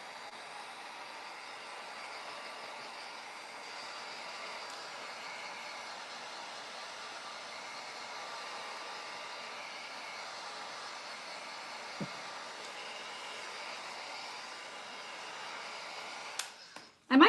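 Hair dryer blowing steadily on a DIY craft project, a constant soft whooshing hiss that runs unbroken for the full length, then a few quick handling knocks right at the end.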